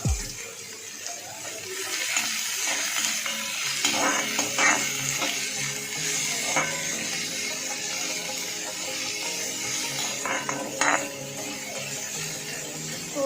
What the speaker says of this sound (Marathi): हे चांगलं आपण फ्राय करून घेऊया तेलामध्ये